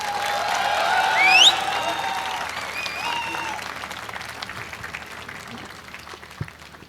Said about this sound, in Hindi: अबे ताली तो बजाओ यार